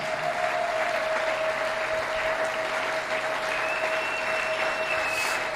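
A church congregation claps steadily and loudly throughout during a Sunday anniversary service, the applause dense and continuous with a faint sustained tone running underneath.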